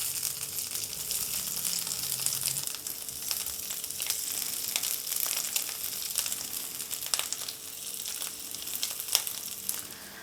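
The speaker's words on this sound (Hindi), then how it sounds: "इसके अंदर मैं उबले हुए आलू को ऐसे हाथ से ही फोड़ के डाल दूंगी" Oil sizzles and fries in a pan while boiled potatoes are crushed by hand into it for Mumbai vada pav filling, with scattered soft crackles and pops over a steady hiss.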